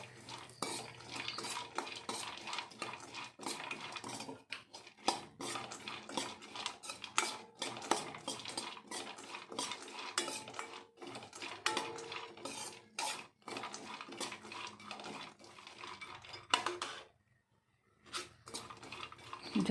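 Almonds and cashews fry in a pan and are stirred with a metal spoon, giving quiet rattling and scraping strokes over a faint sizzle, with one brief pause near the end.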